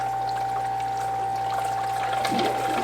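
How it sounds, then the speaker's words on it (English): Water rushes into a Fluval FX4 aquarium canister filter, a steady pouring hiss over a constant pump hum, swelling with a gurgle near the end. "You'll hear water rush in."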